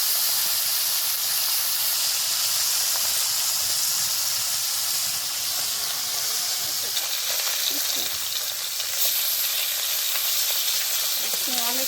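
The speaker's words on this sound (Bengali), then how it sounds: "মাছগুলো আমি দিয়ে দিলাম, মাছগুলো ভালো করে ভেজে নেব।" Fish fry in hot oil in a pan, a loud continuous sizzle and hiss with occasional stirring scrapes, close and steady throughout.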